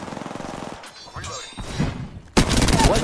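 Gunshots in Apex Legends, rapid bursts of fire with a short lull, then a loud sudden volley that keeps going to the end, with game sounds mixed in.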